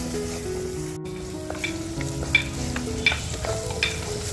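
Tomato masala sizzles and fries steadily in a pan over a wood-fired stove for chicken vade. The close, continuous crackle is broken by occasional stirring scrapes, with no one talking.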